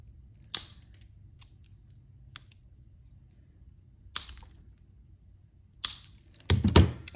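Mosaic nippers snipping the edge of a mosaic piece: a few sharp, isolated clicks spaced seconds apart in a quiet room, ending in a louder cluster of crunching snaps, close by.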